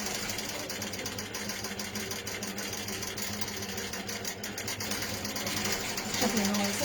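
A longarm quilting machine runs with a steady, buzzing mechanical hum and rapid needle rhythm, close and continuous, with a slight rise in loudness near the end.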